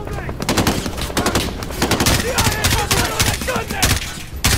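Rapid, loud, sustained bursts of automatic gunfire in Call of Duty: Modern Warfare, dense rattling shots close by and continuing throughout, with no talking.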